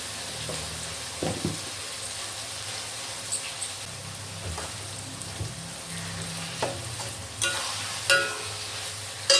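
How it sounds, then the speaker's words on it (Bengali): Capsicum, beans and carrots frying and stirring in a pan for fried rice, a steady low sizzle with occasional sharp clinks and scrapes of a utensil, fairly quiet and with no one talking. "এবারে আমি এই ভেজিটেবলগুলো একটু সেদ্ধ হতে দেবো।"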